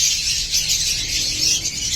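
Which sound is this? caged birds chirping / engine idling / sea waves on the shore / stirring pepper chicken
caged birds chirping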